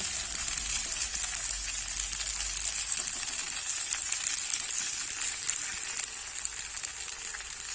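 Chopped garlic frying lightly in a pan with onion and radhuni spice for stir-fried water spinach: a steady, even hiss of sizzling oil, close and unbroken throughout.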